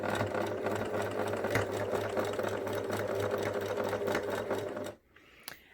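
Close and steady, a sewing machine runs continuously while stitching around the ear of a fabric memory bear. The motor's buzz stops abruptly near the end, followed by a faint click.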